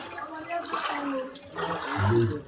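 Flood water pours steadily into a residential compound in Lagos during heavy rain, a continuous rushing, splashing wash close by with a heavier surge near the end; a voice may be faintly present underneath.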